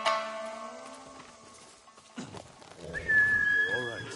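A horse in the Ghost of Tsushima video game, called over by a rider, answers with a whinny, preceded by a short whistle-like call and light movement sounds, with game voices nearby.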